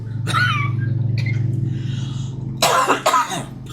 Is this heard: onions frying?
no